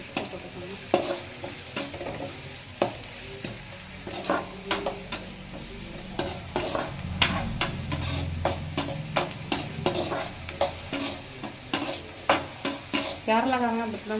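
Onions fry in a pan for chicken gravy, a constant low sizzle under repeated sharp scrapes and knocks of a spoon stirring against the metal in an uneven rhythm.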